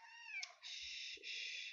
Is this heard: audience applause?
no